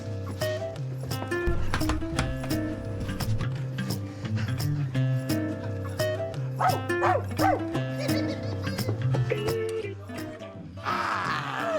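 A cartoon dog yips and barks in quick repeated bursts over steady background music, close and fairly loud, with a busy flurry of sound at the end.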